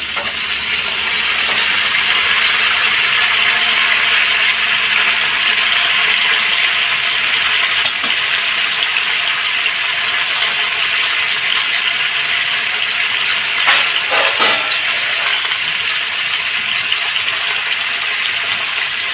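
Pumpkin and beans fry in a pan in a steady, broad, hissing sizzle with a few louder crackling bursts. It is close and continuous and has no voices.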